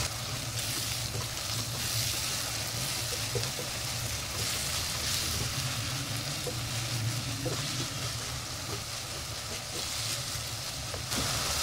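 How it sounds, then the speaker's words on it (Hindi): Keema with boiled kachnar frying in a pan, a steady close sizzle and crackle with faint stirring scrapes, continuous and fairly loud throughout with no voices. "पाँच मिनट हम इनको भूनेंगे।"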